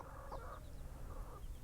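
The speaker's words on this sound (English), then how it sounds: "we're right next to the chickens" A mother hen and her chicks cluck beside a coop on a tropical homestead, with soft repeated clucks and faint high chick peeps heard at a distance under a steady outdoor background.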